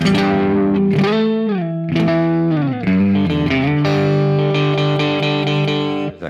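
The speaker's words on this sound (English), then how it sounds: "You can hear it has a little bit of the single coil sound still to it." A clean, bright electric guitar, Stratocaster-style with a twangy single-coil tone, plays a sliding melodic phrase, then sustained chords with a light chorus-like shimmer.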